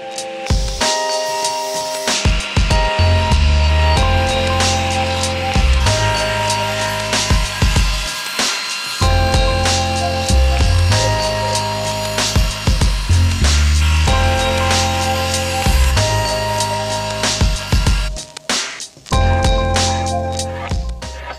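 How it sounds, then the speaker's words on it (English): A table saw cuts and squares up a block of recycled HDPE plastic, the loud whining blade running nearly continuously with repeated surges and dips as the block feeds through, close and dominant. "I clean up the block on my table saw, giving it some straight edges."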